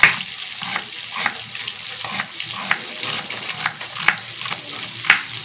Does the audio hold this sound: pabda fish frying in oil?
yes